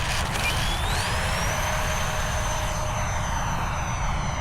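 An Eflite Habu SS RC jet flying after dark, with a loud, continuous turbine-like roar and a high whine that rises in pitch and then holds steady throughout, with no talk.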